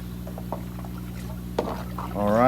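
Sugar water poured into a container for brewing compost tea, a rising liquid fill swelling near the end after light clinks, over a steady low hum with brief talk.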